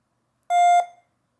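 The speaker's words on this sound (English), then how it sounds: "when you press the help button, you'll hear the confirmation message" A single short electronic beep from a medical alert help button confirming a press, clear and high-pitched, lasting about a third of a second before fading out.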